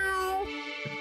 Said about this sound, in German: Hier, guck mal, Katze.